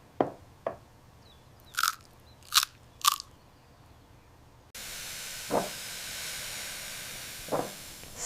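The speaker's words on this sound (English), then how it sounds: "The ultimate crunchy and tender bite." Crunchy bites of lotus stem in sweet and sour shrimp soup, several sharp, close crisp crunches, then a steady hiss with two more crunches over it, no talking.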